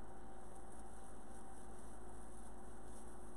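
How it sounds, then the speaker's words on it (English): Cooling fans run steadily in a home garage wreath workshop on a warm day, a continuous broadband whir with a low hum underneath, filling the space evenly with no speech. "And you probably can hear the fans in the background"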